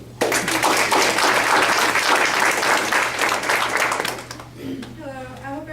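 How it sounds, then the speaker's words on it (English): An audience at a TRiO Day celebration breaks into loud, dense applause right away, keeps it up evenly for about four seconds, then lets it fade as a speaker's voice comes in. "give her a round of applause for that"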